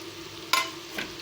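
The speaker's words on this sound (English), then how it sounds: "I'll stir fry them for 5 minutes" Vegetables being stir-fried in a pan for an Arabian puff filling: two short bursts of scraping and sizzling, the first louder, over a low steady background hum.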